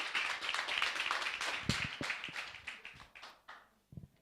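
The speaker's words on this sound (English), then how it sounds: "Give him a clap, everybody." An audience applauding at a primary and infant school graduation ceremony, a short burst of scattered hand claps that fades away within a few seconds.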